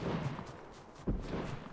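Gunfire in the PUBG Lite video game: a few sharp shots, one louder crack near the middle, heard over a low rumbling background.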